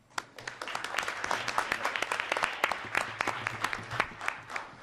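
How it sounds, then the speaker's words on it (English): Conference audience at an Internet Governance Forum session clapping, a scattered crowd whose individual hand claps stand out as sharp distinct taps, building then tapering over several seconds, fairly quiet. "A round of applause"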